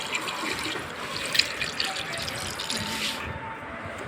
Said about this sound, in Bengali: ইলিশ মাছের ঝোলটাই ঢেলে দিলাম।